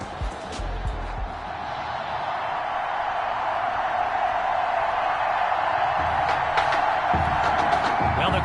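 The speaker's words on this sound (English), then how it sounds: "the crowd is loud and on its feet as Alan Myers gets things started." A stadium crowd at an NFL game roars in a steady, dense wash of cheering, with a few thumps and sharper shouts poking through near the end.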